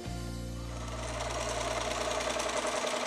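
A Bernina B570 sewing machine stitching a quilting seam with a patchwork foot, giving a steady, close, continuous mechanical hum and rapid needle chatter with no pauses.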